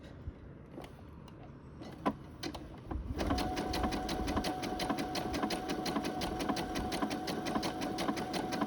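Sewing machine running a zigzag stitch along the raw edge of a fabric seam: a few scattered clicks, then a steady fast rhythmic mechanical chatter that continues loud and close until the end.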